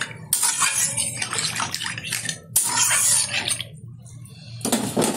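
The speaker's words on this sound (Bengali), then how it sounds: "দিয়ে দিচ্ছি পরিমাণ মতো জল, যতটা ঝোল রাখবো সেই অনুযায়ী জলটা ব্যবহার করলাম।" Water poured into a pan of potato and fish curry with a spiced, fried masala base in a home kitchen, heard as two bursts of splashing, gurgling flow, close and fairly loud, with a brief pause between them.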